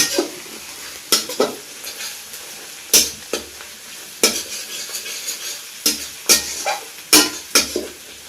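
Whole spices, bay leaf, chili and cinnamon, fry in oil over onions with a steady close sizzle. Sharp metallic clanks and scrapes of a stirring utensil against the pot punctuate it at irregular intervals.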